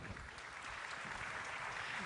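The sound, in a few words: applause after a panel discussion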